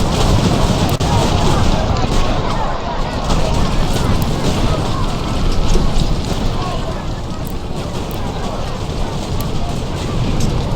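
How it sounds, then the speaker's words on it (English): Massed musket and artillery fire from a battle in the strategy game Ultimate General, a loud, dense and continuous roar of overlapping volleys and booms that holds steady throughout with no pauses. "putting up a pretty good hot massing fire here in this corner."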